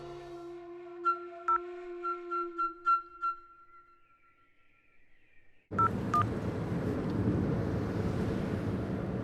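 A run of electronic phone call tones beeps in a short sequence, reaching a switched-off phone, then fades before a loud burst of steady noise takes over.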